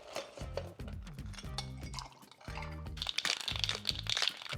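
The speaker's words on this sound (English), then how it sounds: "A little bit of ice and shake this up." Ice and reposado tequila being shaken in a cocktail shaker for a watermelon margarita, a crunchy, crackling rattle that grows denser and louder in the second half over steady background music.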